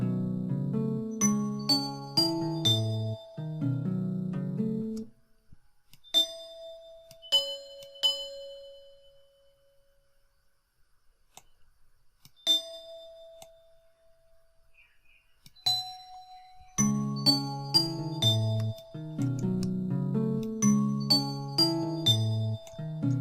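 Produced bell melody built from scratch, bright chiming ding tones over a low synthesized backing that drops out midway to leave sparse single bell strikes before the full arrangement returns, no voices.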